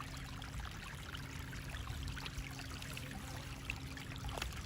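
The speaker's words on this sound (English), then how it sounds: "Hear the sound of the water, a little waterfall." Steady, continuous splashing of a small waterfall at the Fossil Forest in New Zealand, an even rushing trickle that never lets up, close by with no voices.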